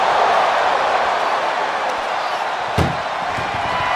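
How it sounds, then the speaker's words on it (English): Ambulance door slammed shut during an intergender wrestling match in the video game WWE 2K25: a single sharp slam stands out briefly over constant loud crowd and arena noise. "Doing their best just to shut that first door."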